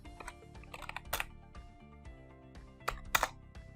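Quiet clicking of a computer keyboard as code is typed, a few quick taps in short uneven bursts close to the microphone.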